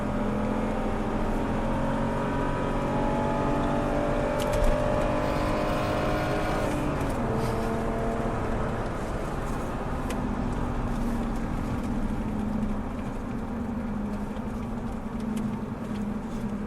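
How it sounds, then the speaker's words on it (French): A low, muffled exhaust drone from a BMW 328i E36 Touring heard from inside the moving car, steady and subdued, with the pitch gently shifting as it drives. "Mais pareil, l'échappement assez discret hein,"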